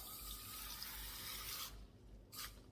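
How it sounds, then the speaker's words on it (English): Water from a tap pours into a rock tumbler barrel holding mahogany obsidian, a steady close splashing rush that cuts off, followed by a brief second splash. "We'll put some water in just below the level of the rock."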